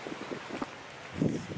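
Wind gusts buffet the microphone outdoors in the Parc de La Trinité in Saint-Denis, Réunion, producing a low, rumbling rush with a stronger surge near the end and no voices.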